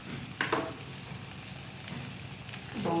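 Ground spices including turmeric and cumin powder sizzle steadily in a pan for Bengali prawn cooking, with a continuous soft crackle and faint stirring scrapes, close up and with no talking.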